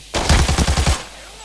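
Smoke grenade deploying in Arena Breakout: a sudden loud, close burst of rapid rumbling pulses that lasts under a second, then quickly fades to quiet.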